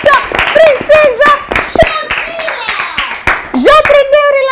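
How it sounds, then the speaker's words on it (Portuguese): A short burst of hand clapping for a child at a festive children's show, with an adult's lively sing-song voice and other voices running over and between the claps. "Uma forte salva de palmas para a nossa princesa"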